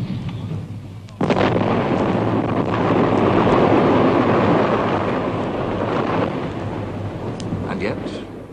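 Heavy Krupp artillery guns fire in a World War I setting, producing a sustained loud rumbling roar of overlapping blasts that lasts several seconds before fading.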